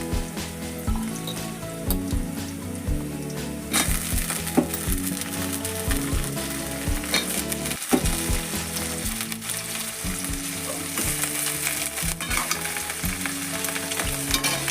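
Eggplant pieces fry and sizzle steadily in a pan while a North Karnataka style eggplant palya is cooked, a dense, continuous crackle with occasional stirring, close and fairly loud throughout.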